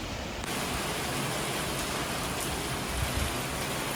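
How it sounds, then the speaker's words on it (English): Steady rain begins abruptly and continues as a dense, even hiss of falling drops at Agara Lake, fairly loud and close, with no talking. "It started raining here."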